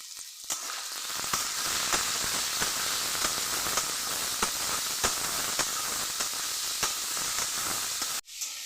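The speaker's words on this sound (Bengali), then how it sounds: "আগে আলুটা ভেজে তারপরে পরে শাকটা দেবো" Potatoes fry in hot oil in a pan with salt and turmeric, giving a steady loud sizzle and hiss throughout, broken by small crackling pops and stirring clicks, with no talking.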